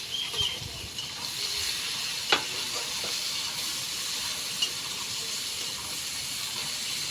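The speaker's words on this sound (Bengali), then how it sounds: "ফোড়নের সঙ্গে পেঁয়াজটাকে ভালোভাবে ভেজে নেবো" Chopped onions frying in oil with whole spices for a prawn curry with potato and pointed gourd: a continuous soft sizzling hiss with a couple of brief pops.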